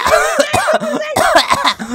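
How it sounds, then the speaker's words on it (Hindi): A small, high-pitched cartoonish voice of a baby in a video game gives a run of short coughing sounds, several quick hacks in a row, fairly close and clear. "खांसी लग गई बेचारे को"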